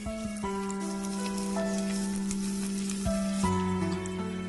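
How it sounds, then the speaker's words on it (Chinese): Onion, ginger and garlic stir-fry in hot oil in a wok, a soft steady sizzle under louder background music. "姜蒜，炒出香味。"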